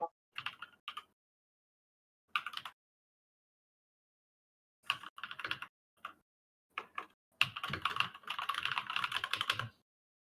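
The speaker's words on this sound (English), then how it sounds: "the keyboard clicks keep us company. Yeah, sorry, my keyboard very loud." Loud clicking of a computer keyboard during typing, coming in irregular bursts separated by silent pauses and ending in a longer rapid flurry, close to the microphone.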